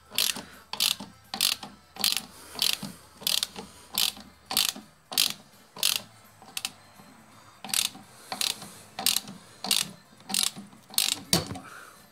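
A ratchet wrench working a nut on a Toyota Prius engine mount, a series of close, rhythmic clicking bursts repeating steadily with short pauses, no talk.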